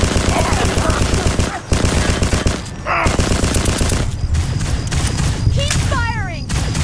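Sustained machine-gun fire and rapid shots rattle loudly through a Mass Effect battle on PS3, layered over game music and effects, with brief dips and voices talking over the firefight.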